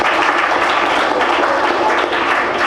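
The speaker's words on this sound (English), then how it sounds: "Let's clap for Nazira." Students in a school classroom clap for a classmate, a loud, close, sustained burst of many hands that stays dense and even throughout.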